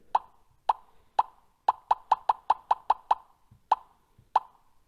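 Repeated short camera shutter clicks from a Xiaomi Redmi 13C phone set to its modern shutter sound, eleven crisp taps in an uneven rhythm, some spaced apart and several in a quick burst, close and clear with no talking.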